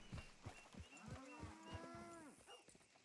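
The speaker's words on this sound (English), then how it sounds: "I hear cows." Cattle in the Red Dead Redemption 2 video game moo several times in a row, with long drawn-out lowing calls standing alone and fairly clear over a quiet game background.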